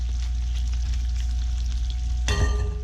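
Onions with a little salt and pepper fry steadily in a hot pan as a base for gyudon, a close, constant sizzle with a low hum underneath, then a brief clatter and louder crackle near the end as they are stirred.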